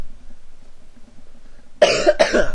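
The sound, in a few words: cough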